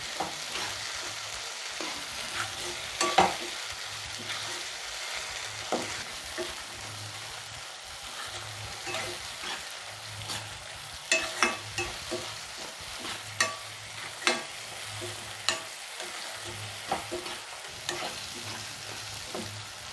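Sliced green chillies frying in a pan with tomatoes for prawn thokku, a steady crackling sizzle broken by repeated stirring scrapes and sharper spatula knocks, close and clear with no talking.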